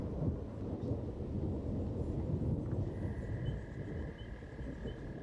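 Low, steady rumbling of distant thunder rolls continuously, with a faint high tone drifting in partway through.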